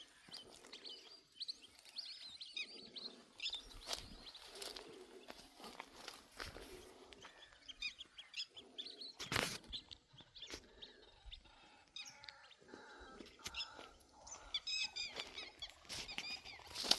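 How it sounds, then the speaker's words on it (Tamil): Birds chirp and call near a pond, with scattered faint tweets heard up close amid rustling and footstep-like scuffs that come and go in an uneven rhythm. "என்ன வித்தியாசமான பறவைகளாக இருக்குது"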